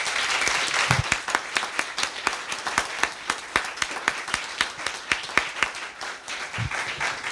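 A lecture-hall audience gives the speakers a final round of applause after a talk on reading, a steady wash of many hands clapping with distinct sharp claps standing out, sustained and fairly loud for several seconds.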